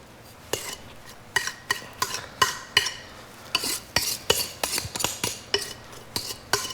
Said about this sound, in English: We're gonna take the dough out, and this hook works really good again. Just scrape that right out onto there.